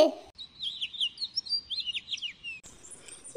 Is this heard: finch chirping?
yes